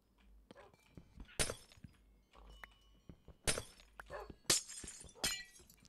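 Minecraft glass blocks, some tinted and some stained, shatter in several sharp, bright bursts spread across a few seconds, with soft thuds and clicks between the breaks.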